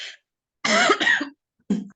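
A heavy cough in a trigonometry lesson: one faint burst, then a harsh two-part cough up close, and a short final hack after a brief pause.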